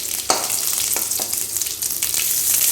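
Dried red chilies and curry leaves sizzle and crackle in hot oil after mustard seeds have popped, a close, steady frying hiss with sharp spits and pops throughout and no voices.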